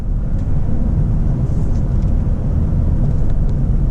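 A Lincoln Navigator Black Label in sport mode, its engine a loud, steady low rumble pulling hard from inside the cabin, with no talking.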